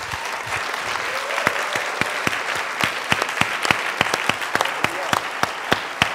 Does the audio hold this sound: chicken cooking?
no